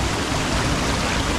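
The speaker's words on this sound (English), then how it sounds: "The water's flowing quite fast." Fast water rushing down a small waterfall stream in a Welsh woodland valley, a loud, steady, dense wash of white noise with no pauses throughout.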